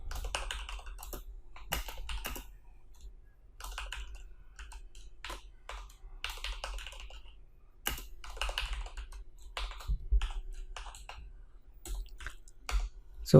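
Computer keyboard typed on steadily while PHP loop code is written, with irregular bursts of close, crisp key clicks and short pauses, no talking.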